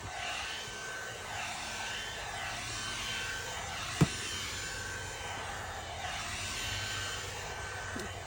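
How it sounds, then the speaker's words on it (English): A pet grooming hair dryer blows air over a dog while pulling loose hair out, giving a steady, loud, close rushing whir that holds constant throughout, with one sharp click midway. "blow drying him and grabbing the hair out at the same time"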